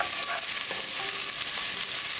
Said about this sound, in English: Cook ginger and green chili along with onion for 1 minute